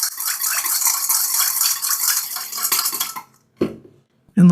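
A seasoning of rice vinegar, sugar, mirin and salt being mixed briskly in a bowl, a close utensil rattling and clinking continuously for about three seconds, then stopping, followed by a couple of short knocks; no talking.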